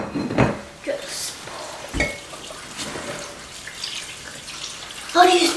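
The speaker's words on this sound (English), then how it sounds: "here I've got our hot chicken broth. I'm just gonna pour it over the peppers" Hot chicken broth is poured over peppers, making soft splashing and sizzling pours with a few clinks in between.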